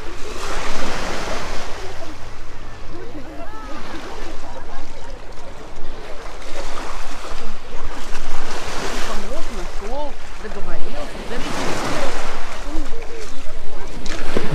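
Steady Black Sea waves wash and surge continuously onto a rocky beach in Batumi, with wind noise and faint distant voices mixed in.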